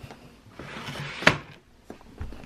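A bedroom drawer slides open with a rumbling wooden scrape that ends in a sharp knock, followed by a couple of quieter bumps, close by and alone.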